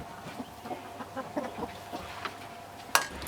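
Farmyard hens clucking in short, scattered calls at close to moderate distance, with a louder sharp squawk near the end.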